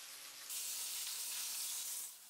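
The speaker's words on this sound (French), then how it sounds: "J'arrose régulièrement avec le beurre de cuisson" Tournedos beef sears in butter in a frying pan, giving a steady, close, bright sizzle that swells slightly, with no voices.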